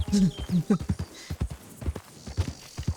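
A horse in Red Dead Redemption 2 clip-clops along in an uneven walking rhythm of distinct hoof strikes, close and fairly loud, under someone talking.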